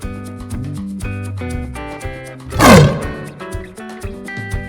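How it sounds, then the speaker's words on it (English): A lion gives one short, loud roar in a children's animal-names lesson, bursting out midway over continuous background music. "Lion."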